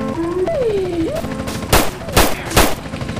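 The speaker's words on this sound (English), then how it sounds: "We got shots fired once again." Bursts of gunfire in GTA San Andreas during an LAPD police patrol mod callout, three loud sharp shots spaced about half a second apart, following a wailing siren-like tone.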